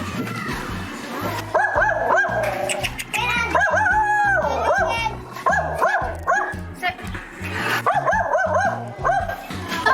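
A dog barks close by in repeated yips and whimpering barks, loud and continuous, mixed with people talking and laughing around it.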